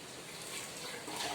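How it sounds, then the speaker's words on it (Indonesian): Water poured from a container into a bottle, a steady hissing, splashing stream that runs unbroken and swells slightly toward the end, close and moderately quiet with no talking. "Bunda akan coba isi air, tuangkan ke dalam."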